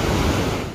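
A rushing mountain river in Peru roars as a loud, dense, steady wash of water noise, close by and unbroken for under a second, with no voices.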